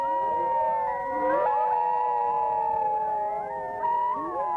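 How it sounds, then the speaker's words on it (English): An Arctic white wolf pack howls together, several long, wavering voices rising, falling and overlapping in a steady chorus that carries on for the whole stretch with no talking. "When a pack wakes up, they may begin to howl, and even the pups attempt to join in."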